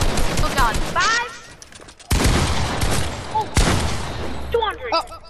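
Gunfire in a Fortnite 2v2 match, with bursts of shots in several loud stretches mixed with game effects, while players talk over the action.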